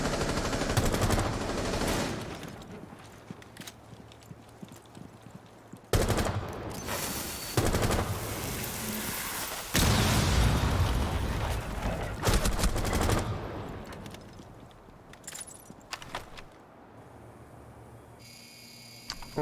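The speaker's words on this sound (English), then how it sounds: "This time he pre-fires it though." Sustained bursts of automatic gunfire in a first-person shooter, rattling continuously as a player pre-fires through a wall at a hidden Doc, broken by brief pauses between volleys.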